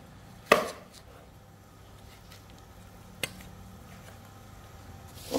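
A knife chops cooked dog meat on a board: one sharp close thwack, a lighter cut a few seconds later and another at the end, with quiet room background between.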